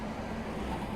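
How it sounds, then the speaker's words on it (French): Steady roadway rumble of cars on a busy street, a continuous broadband drone with a low hum, no single vehicle standing out. "Mon Dieu, il y a du trafic aujourd'hui."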